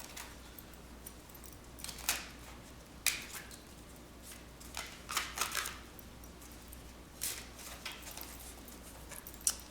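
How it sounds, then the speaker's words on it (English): An indie tarot deck shuffled by hand gives faint, scattered bursts of riffling and card slaps at uneven intervals over a quiet room, with no talking. "give them a quick shuffle"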